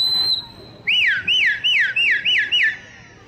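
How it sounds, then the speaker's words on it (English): A shepherd's sheepdog command whistle: a short high steady tone, then a run of five or six rising-and-falling looping whistles in a quick, even rhythm, loud and close over quiet outdoor background. "He is given a variant of different whistles"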